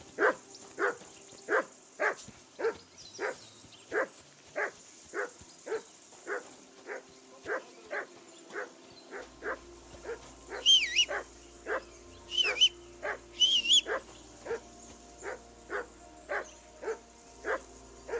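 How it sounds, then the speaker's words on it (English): In Kingdom Come Deliverance II, a dog barks on and on in a long, regular string of clear, close barks, with a couple of short whistles cutting in midway. "Whistle at that mutt of yours to stop barking."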